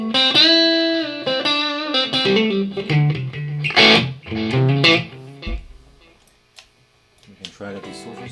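An electric guitar runs through a Tech 21 SansAmp with distortion and plays bright, gritty chords and single notes in short phrases, close and loud, ending with a pause and a few quieter picked notes.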